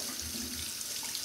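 Water from a tap runs steadily into a sink during handwashing, a close, continuous rushing stream with no talk over it.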